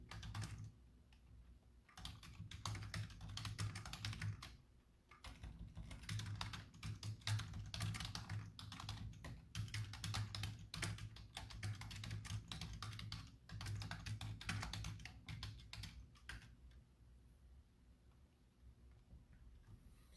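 Steady tapping on a computer keyboard, faint and close, in quick irregular bursts with short pauses, lasting about twenty seconds in a quiet room.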